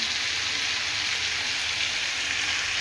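Mango pieces frying in a pan with a pinch of turmeric and salt, a steady, loud sizzle that holds evenly without a break.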